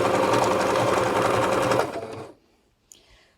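A sewing machine runs a blind hem stitch through thick curtain fabric with a fast, steady mechanical whir. It slows and stops after about two seconds, then a brief click follows.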